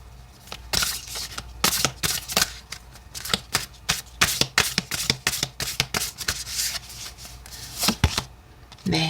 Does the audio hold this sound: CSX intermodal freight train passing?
no